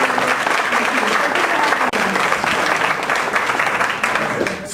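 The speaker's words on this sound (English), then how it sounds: "Let's give Josephine a big round of applause." Loud, dense audience applause in a meeting room for a speaker named Josephine, steady clapping throughout with a brief dip partway through.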